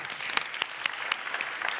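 An audience at a forum on vocational excellence claps steadily, a dense patter of many hands at moderate volume with no voices over it.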